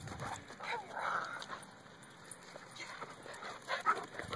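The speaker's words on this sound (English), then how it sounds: "happy dog, because you're off the leash" A happy dog running loose off its leash gives soft whimpers and small yips at close range, with faint background voices.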